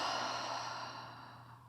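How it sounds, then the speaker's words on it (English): A single open-mouthed exhale during yoga breathing, a soft, breathy rush of air that starts fairly strong and slowly fades over about two seconds, close and quiet with no talking. "Inhale. Open mouth, exhale."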